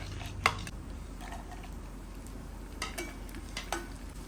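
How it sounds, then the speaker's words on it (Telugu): Cashews fry in a pan for bread halwa (double ka meetha), making a soft, steady sizzle with a few light stirring clinks and scrapes, fairly quiet and without talk. "ఇప్పుడు జీడిపప్పు కూడా వేసేద్దాం."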